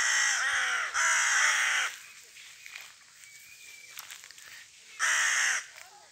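Crows perched in walnut trees caw in the early morning before daylight: three loud, close bursts of harsh calls with quieter rustling and faint sounds between them.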